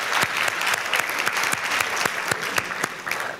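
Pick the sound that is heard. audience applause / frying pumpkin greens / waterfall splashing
audience applause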